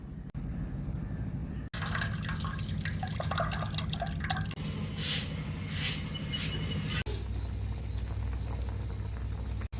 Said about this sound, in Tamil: இதை நல்லா வடித்து எடுத்துக்கலாம்.